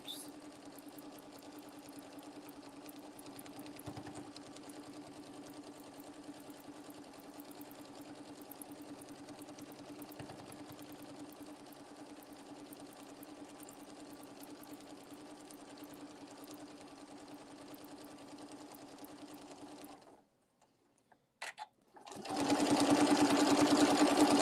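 Sewing machine stitching an Easter placemat, a steady even mechanical hum running for about twenty seconds before stopping, then a brief handling noise and a loud burst of fabric rustle at the end.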